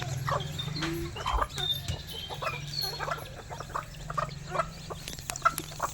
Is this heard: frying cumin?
no